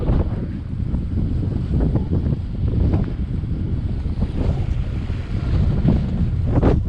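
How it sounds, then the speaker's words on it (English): Strong wind buffets the microphone on a sailboat entering the Beaulieu River, a loud, gusty rumble that rises and falls continuously, with water washing along the hull beneath it. "It's very windy out there today."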